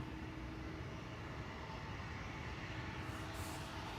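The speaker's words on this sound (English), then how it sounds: "One airplane goes, another one arrives." Aircraft engines rumble in a low, steady, distant drone at Amsterdam Schiphol Airport as planes depart and arrive, faint and unbroken with no voices.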